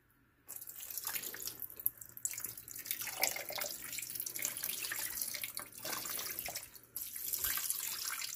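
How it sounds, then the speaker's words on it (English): A steady stream of water splashes and trickles into incubator trays, starting after a brief quiet and pausing twice before continuing. "you put water in this for humidity, to give it humidity"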